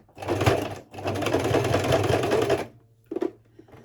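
A sewing machine stitches a ribbon bookmark in two close, rapid whirring runs, stopping, then a brief short burst as it goes back and forward.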